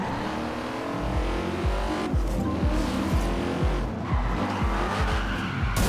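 A Bugatti in Forza Horizon 2 revs hard through repeated gear shifts while its tires squeal continuously, loud and close.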